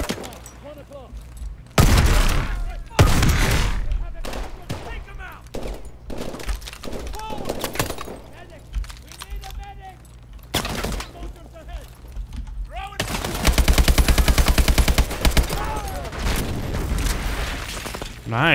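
Weapon fire in Call of Duty: Advanced Warfare, a series of loud gunshot bursts and booms, then a rapid sustained volley near the end, with a voice talking between shots.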